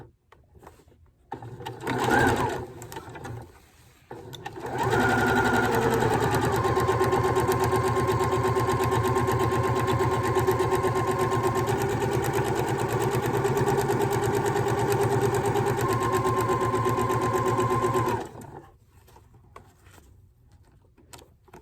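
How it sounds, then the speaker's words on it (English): A sewing machine back-stitches ribbon onto a Dollar Tree placemat. It starts with a few short bursts, then runs in a loud, continuous mechanical whir for about thirteen seconds and stops abruptly. "I always back stitch on the little pieces of ribbon."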